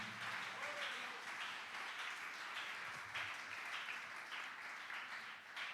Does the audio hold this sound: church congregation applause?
yes